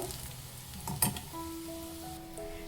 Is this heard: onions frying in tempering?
yes